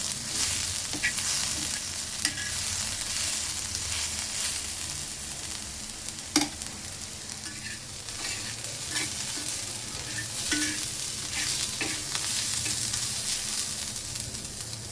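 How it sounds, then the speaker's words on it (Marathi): Onions fry in a pan for onion chutney with a steady, dense sizzle that continues throughout. Occasional clinks and scrapes of stirring rise above it, and nobody speaks. "कांद्याला आपल्याला तांबूस रंग येईपर्यंत भाजून घ्यायचा आहे."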